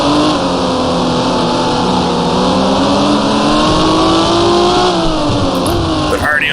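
Race car engines roar steadily at high revs in the video game GT Racing 2002, with a Viper among the cars, loud and close, the pitch climbing and shifting as the car drives on.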